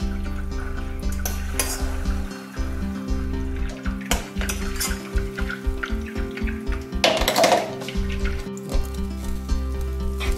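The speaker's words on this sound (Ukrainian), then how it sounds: "Масло помалу огріваємо." Butter slowly heating in a pan gives a steady low sizzle and bubbling close by, with faint clinks and a brief louder splash of frying partway through.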